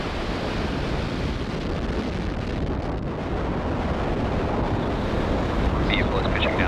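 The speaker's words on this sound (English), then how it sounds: "Engines full power, and lift off of ViaSat 3." A SpaceX Falcon Heavy rocket lifts off on the ViaSat-3 mission, its engines at full power making a loud, steady, broadband roar that holds unbroken throughout, like heavy wind.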